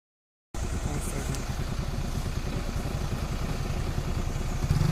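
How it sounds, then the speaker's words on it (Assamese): A tractor passes along a road near a school and pond in Dibrugarh, its engine chugging in a steady, throbbing rhythm at moderate distance, rising slightly toward the end. "ট্ৰেক্টৰে পাৰ হৈছে"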